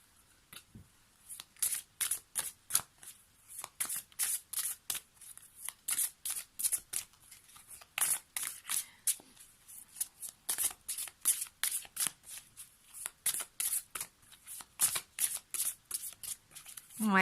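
Tarot cards being shuffled by hand in rapid, crisp riffling bursts that continue steadily at close range, with no talking over them.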